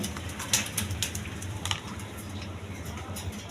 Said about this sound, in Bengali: একদম কোয়ালিটি সম্পন্ন কবুতর